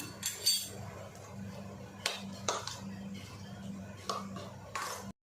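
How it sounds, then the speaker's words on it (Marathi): A spoon clinks against a bowl in a few sharp, irregular taps while yogurt is mixed into a guava salad, quiet and close, with faint background hum between strikes. "आता आपण याला मिक्स करून घेऊया।"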